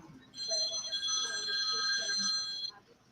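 A telephone rings with a bright electronic warble that repeats steadily for a couple of seconds, fairly faint against a quiet room.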